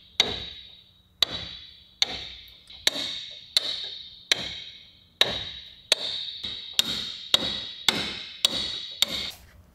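A hammer strikes repeatedly while work is done on a wooden boat's front door, roughly a dozen sharp, ringing blows at an uneven, steady pace, each close and loud with a brief decaying ring.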